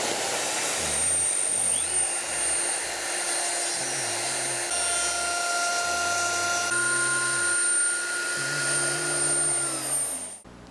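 A router fitted with a long 1/2-inch pattern bit cuts a guitar body to about 8 mm depth, giving a steady loud whine and roar that shifts in pitch as it moves, then stops at the end.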